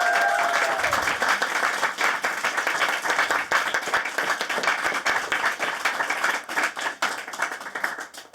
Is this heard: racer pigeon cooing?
no